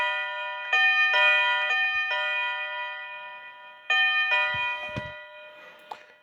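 A TECKNET plug-in wireless doorbell chime rings out twice in a clear, loud sequence of sustained bell-like tones with several steady pitches ringing together, then fades out. Faint handling thumps sit between the rings.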